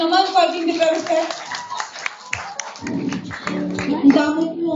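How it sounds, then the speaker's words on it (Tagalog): An audience claps at a birthday event in Viewfort, Carmona, Tagaytay City, quick scattered handclaps layered under a loud singing or speaking voice, the clapping fairly close and continuous through the moment. "Uy, palakpak naman"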